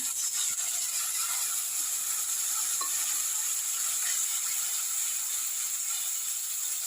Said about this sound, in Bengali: জিরে ফোড়ন দিলাম শুকনো লঙ্কা তেজপাতার সাথে টমেটো ক্যাপসিকামটা দিয়ে দিলাম এবার আমি মশলাটা দিয়ে দিচ্ছি